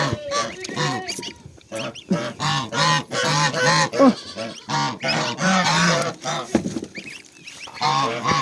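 A flock of geese honks continuously nearby, loud overlapping calls, with a voice briefly mixed in.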